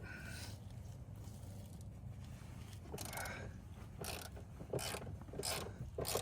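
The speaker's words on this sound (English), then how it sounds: "But you can see I'm using my long ratchet wrench here." Long ratchet wrench clicking as it loosens tight front seat bolts on a Dodge Charger, close and clear, with repeated bursts of ratcheting and metallic mechanism sounds and no talking.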